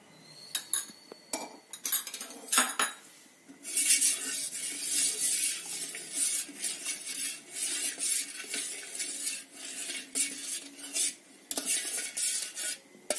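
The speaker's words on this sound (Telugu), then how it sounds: "రెడీ అయిన పాకంలో ఎలాచీ పౌడర్ వేసి కలుపుతున్నాను." A spoon clinks and scrapes against a pot while cardamom powder is stirred into sugar syrup for sweet potato gulab jamun, with sharp metallic taps early on, then steadier, busier scraping, close and moderately loud, with no talk.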